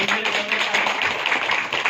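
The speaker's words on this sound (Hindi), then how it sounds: "जरूरत तालियां दिनेश बहन के लिए" Dense, continuous audience clapping honoring a guest at a success-story gathering, loud and close with no voices standing out.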